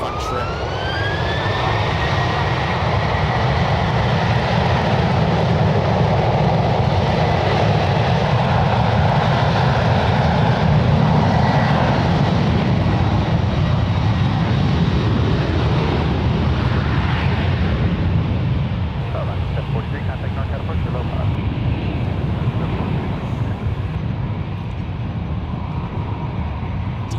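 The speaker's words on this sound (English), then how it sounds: "A Delta Airlines Boeing 737-900 flight 1152" A Delta Airlines Boeing 737-900 at San Francisco International Airport, a loud, sustained jet engine roar with a rising whine early on that gradually eases as the aircraft moves off.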